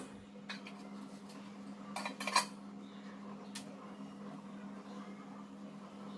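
Utensils and pots clatter in a few quick bursts while a kitchen stove is being cleaned, with a steady low hum running underneath and otherwise quiet surroundings.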